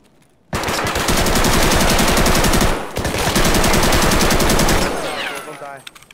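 In Escape from Tarkov, an SKS rifle fires as a rapid, sustained run of loud, close shots that breaks briefly near the middle and then resumes before trailing off.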